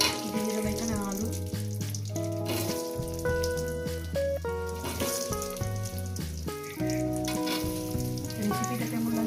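Potatoes and salt fry in hot oil for a spicy chicken kosha, a steady close sizzle running the whole time beneath prominent melodic background music.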